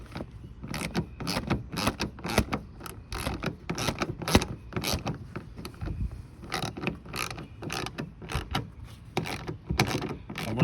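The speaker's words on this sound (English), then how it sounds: "So go ahead and start tightening the front clamp down." The front clamp of a soft roll-up tonneau cover on a Ford Maverick is cranked tight with a run of close, quick ratcheting clicks in uneven bursts, with faint wind noise behind.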